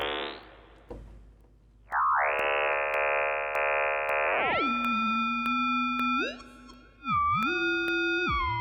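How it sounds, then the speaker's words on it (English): Behringer 2600 synthesizer filter resonating as a clean sine tone, then swept and warbled as oscillator 2 modulates it, with pitch jumps, sliding drops and brief clicks between steady held tones, loud and alone. "the filter is producing a pretty clean sine wave. You can then mod this sine wave with oscillator 2."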